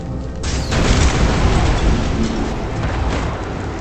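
A big, booming explosion in the video game ADACA erupts suddenly and loudly, then rolls on as a sustained rumbling roar with no talk over it.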